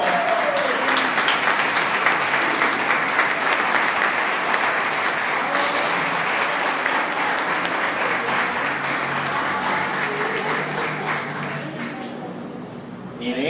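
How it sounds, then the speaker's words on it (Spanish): Sustained audience applause at a presentation where people are called up one by one, dense and even clapping from a large crowd that holds steady before fading slightly at the end. "Un fuerte aplauso."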